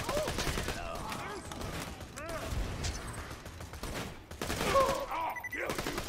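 Gunfire in the Borderlands 2 video game, dense bursts of shooting and mechanical clatter running throughout at moderate loudness, mixed with game effects and a voice talking over it.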